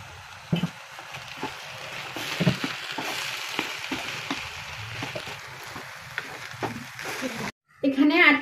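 Vegetable egg fried rice with eight scrambled eggs sizzles in a pan while being stirred, steady frying hiss broken by repeated scraping strokes of the spatula, with a voice talking over it and a brief silence near the end.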